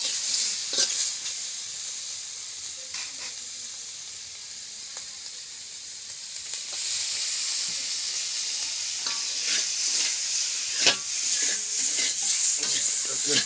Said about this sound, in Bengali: এই যে নাড়াচাড়া দিয়ে আছে মাছগুলো